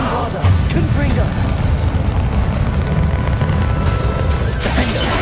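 Bombarda and Confringo spells explode in the Hogwarts video game, producing loud, close booming blasts with crashing debris and bursts of popping within a continuous roar of battle noise.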